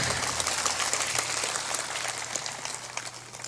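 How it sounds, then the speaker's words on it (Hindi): Audience applause at a Hindi motivational talk, a steady dense wash of many hands clapping at moderate loudness that fades slightly toward the end, with no speech over it. "तो ताली बजा दे"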